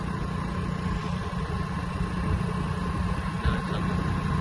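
A car engine hums low and steady from inside the vehicle while driving, with continuous road rumble and no talking.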